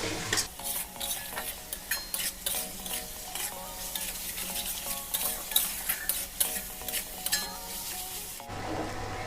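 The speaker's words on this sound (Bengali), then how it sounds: "এবার মশলাটা সমস্ত গুঁড়ো মশলার সাথে খুব ভালো করে কষে নেবো" Ground spice masala sautés in a pan over low to medium flame for a pangas fish dish, a steady sizzle with frequent sharp spatula scrapes and clinks against the pan, close by, ending abruptly.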